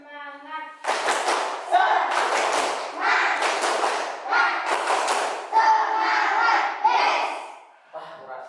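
A classroom of pupils doing rhythmic tepuk semangat clapping, led by a student, with bursts of hand claps mixed with loud group chanting in a repeated pattern.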